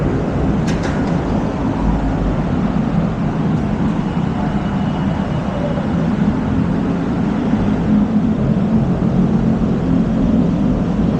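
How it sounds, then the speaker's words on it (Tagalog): A heavy low rumble of an LRT light rail train arriving at a station platform, rolling steadily close by, a continuous loud mechanical roar with no talking, lasting throughout. "Oh, may meron na. May meron kayo LRT."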